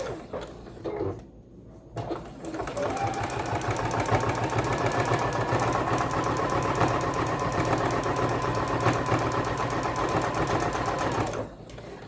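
A sewing machine runs steadily, top stitching through fabric for a post-it note cover with a snap closure, with a brief pause near the start and a continuous mechanical whir and rapid needle rhythm for about ten seconds before stopping.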